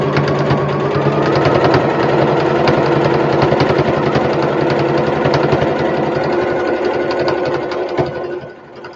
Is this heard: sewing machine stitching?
yes